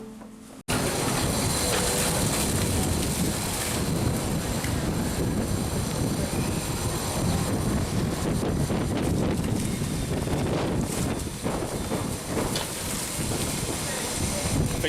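Strong outdoor wind buffets the microphone in a loud, continuous rushing roar that starts abruptly and holds for the rest of the clip, briefly dipping near the end.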